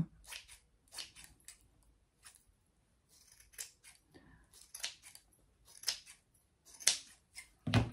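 Scissors snip through material for a homemade sewing organizer, a series of sharp, crisp cuts in irregular bursts, close and fairly quiet, with no talking.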